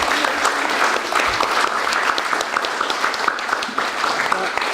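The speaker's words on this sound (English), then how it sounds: "So Tasoula, please round of applause for Tasoula." An audience at a lobbying event in a theatre lobby gives a steady, close round of applause for an arriving speaker, dense clapping sustained throughout with no talk over it.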